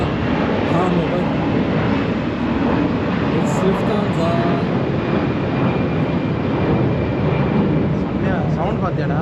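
An airplane passes overhead and banks into a turn, its engines giving a loud, steady, broad roar that fills the whole stretch without fading.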